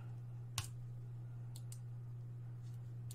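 Sharp, faint mouse clicks at a computer running Android Studio: one click, then a quick pair and a later pair, over a steady low electrical hum.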